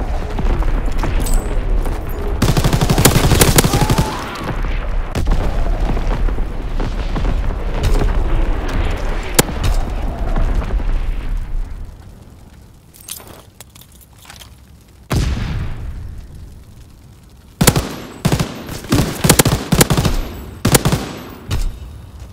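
A Call of Duty division artillery barrage pounds away in long, loud volleys of booming impacts and rapid gunfire, thinning out midway before a fresh run of sharp, separate blasts near the end.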